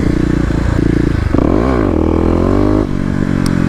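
A Kawasaki KLX250 dirt bike on a wet street revs hard to lift its front wheel, the single-cylinder engine loud and close with a rising then falling pitch sweep and a continuous buzzing drone throughout.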